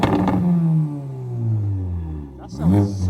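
A Porsche Macan with a muffler delete and quad tips is revved in a few loud, rising and falling pulls that rumble close by, with a sharp burst near the end and people speaking over it.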